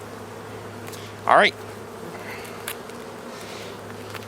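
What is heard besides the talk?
honey bees buzzing around a hive frame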